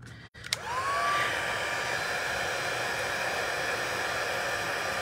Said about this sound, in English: bring in my heat tool